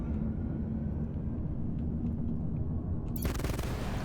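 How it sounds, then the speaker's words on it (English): Ship-mounted ballistic guns fire in the space combat game Fractured Space, a loud, dense, continuous roar of rapid gunfire, joined near the end by a sharp, bright burst of higher-pitched noise. "Those guns sound awesome, though. I'm always about big, noisy, ballistic weapons on ships."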